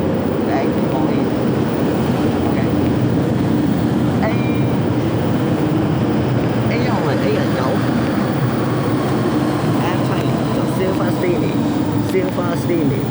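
An MTR Island Line M-Train pulls into a Hong Kong metro station, a broad continuous rumble and roar of wheels and motors filling the platform, steady and loud, with faint squeals and people talking in the background.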